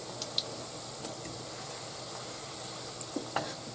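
Glazed donuts frying in hot oil give a steady, soft, even sizzle with occasional small pops and crackles, heard alone and close.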